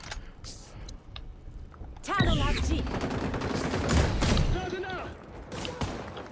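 Bursts of gunfire in the video game XDefiant rattle in quick fusillades of sharp shots, loud and close, alongside mechanical clatter, with people talking during the firing.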